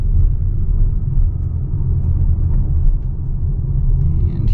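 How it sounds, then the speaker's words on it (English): Steady low rumble of a Tesla rolling slowly over a speed bump, the road and cabin drone holding close and even with only slight swells and no voices. "We got a speed bump here. Slowing way down to 17 kilometers an hour for that one."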